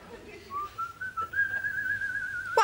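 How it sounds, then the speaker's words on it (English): A person whistles a wavering tune, a single sustained melodic line that rises and holds, ending with a brief clatter. "Why are you whistling like that?"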